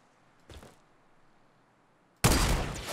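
Gunfire in the video game Fortnite: a brief muffled shot, then a sudden loud sustained burst of shooting that keeps going to the end.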